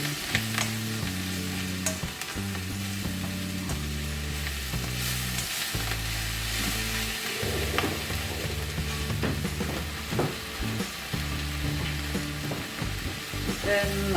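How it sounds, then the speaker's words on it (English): Kangkong stir-frying in a pan, a steady sizzle with scraping stir strokes running throughout, near and continuous, with a low tonal hum of music underneath. "Well stir fry our kangkong for just a minute."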